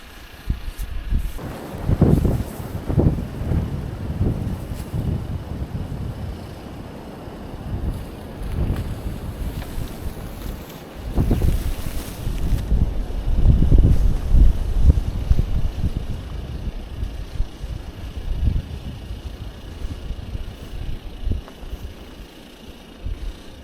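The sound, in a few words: wind during a winter snow squall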